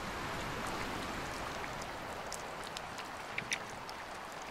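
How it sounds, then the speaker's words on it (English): Faint, steady rain in the sailing video game Sailwind hisses continuously, with a few scattered drops tapping louder near the end, and no voices. "Yeah, it's raining."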